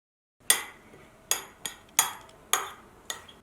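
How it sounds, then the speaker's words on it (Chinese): Spoon or chopsticks strike a bowl holding two eggs, a pinch of salt and finely chopped wild garlic leaves: six sharp, close clinks spaced about half a second apart, each ringing briefly in an otherwise quiet room. "往野蒜碗当中打入2颗鸡蛋， 加少许的盐搅拌均匀"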